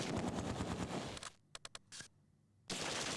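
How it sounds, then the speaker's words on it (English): Gunfire in the World War II tactics game Close Combat 2, with dense rapid bursts of machine-gun fire, then a few sharp isolated shots and a short burst over quieter background, before heavy continuous firing resumes. "We're under heavy fire."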